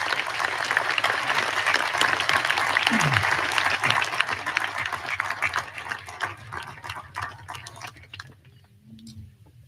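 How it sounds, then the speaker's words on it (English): A big crowd claps steadily and warmly, the applause gradually thinning and fading out toward the end. "please join me in a round of applause for our retiring faculty members"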